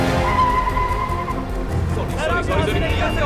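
A car swerves around with tires skidding and squealing amid movie-scene engine noise, a rising screech in the second half over a steady rumble.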